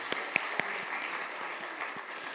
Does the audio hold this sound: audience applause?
yes